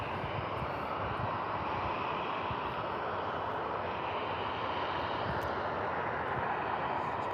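Boeing 737 airliner arriving at Birmingham Airport, a steady, loud jet engine roar that holds level throughout without breaks.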